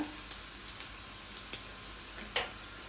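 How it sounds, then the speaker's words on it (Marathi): Onions fry in a pan in a small kitchen, a faint, steady sizzle broken by a few soft ticking taps and one slightly louder clink. "आनियन घायल न्हू हांवें बरो भाजून घेता हांव"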